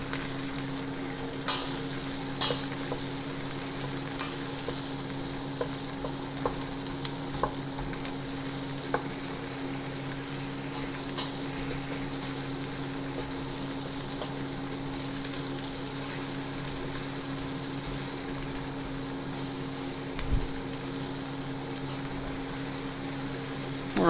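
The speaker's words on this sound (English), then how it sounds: "I'll add in the red onion and the garlic first. Just give it a short fry off" Red onion and garlic fry gently in a pot for a beef stew, giving a steady low sizzle with occasional stirring clicks, close and alone without speech.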